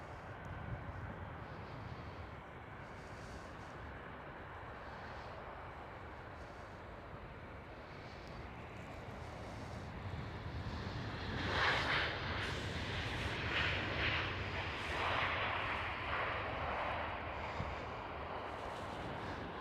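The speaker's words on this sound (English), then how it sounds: "And another KLM 737 arriving" A KLM Boeing 737 arrives at Amsterdam Schiphol with a steady distant jet roar that swells louder and brighter partway through, then holds as the plane passes.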